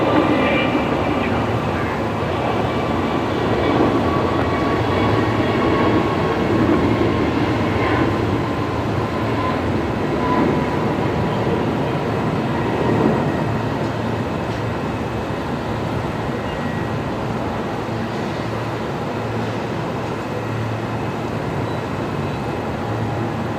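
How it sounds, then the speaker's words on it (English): A Jetstar Airbus A321neo departs Brisbane Airport: a steady, loud, broadband engine roar holds for the whole stretch without fading, with faint voices in the background. "We got a Jetstar 321 Neo going now"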